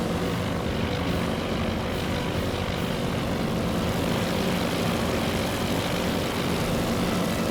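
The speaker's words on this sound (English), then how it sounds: "as the first of our scout planes embark on their journey to find the enemy" Scout planes take off in the naval strategy game Task Force Admiral, their propeller engines droning loudly in a thick, continuous roar that holds steady throughout.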